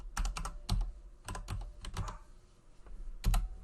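A folder name is typed on a computer keyboard in short bursts of crisp, close clacks, pausing briefly before a final cluster of keystrokes.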